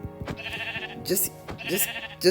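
Sheep bleating in the Minecraft video game, several short wavering bleats repeating at a steady pace, clear and close.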